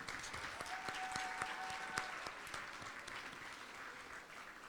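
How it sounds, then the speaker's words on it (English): Guests at a business chamber gala dinner applaud together, a soft, distant round of even clapping that holds steady for several seconds and then tapers off. "Let's give Erin a huge round of applause again."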